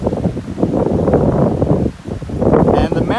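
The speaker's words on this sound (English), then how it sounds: "and it is this windy." Strong gusty wind on a hill on the way up a mountain buffets the microphone as loud, continuous roaring rumble with brief lulls.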